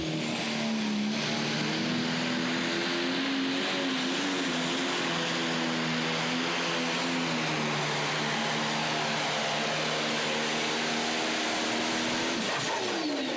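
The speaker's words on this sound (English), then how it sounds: "we're going to kick off the category with a John Deere driven by Nick Morrison" A John Deere pro stock pulling tractor at a 2017 pull in Goshen, Indiana roars steadily and loudly under full load, its engine drone rising and falling slightly for about thirteen seconds before cutting off near the end.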